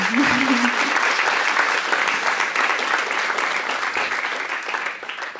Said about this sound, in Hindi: तालियां बजा सकते हैं और ऐसा खुल के।